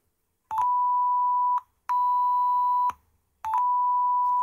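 A homemade penny organ oscillator produces a steady pure sine tone, played as three separate held notes of about a second each with brief silences between, clear and close with no speech.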